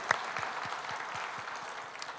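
Congregation applauding during a Sunday church service, a steady wash of many clapping hands held at a moderate distance, with a few sharper claps standing out near the start.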